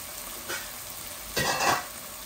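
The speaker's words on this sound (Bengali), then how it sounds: "এগুলা এই হাঁড়ির মধ্যে আমি এই ভাজি করে ফেলেছিলাম।" Chicken pieces fry in a cooking pot, giving two short bursts of crackling sizzle as they are stirred, separated by a quieter hiss, close up and without talk.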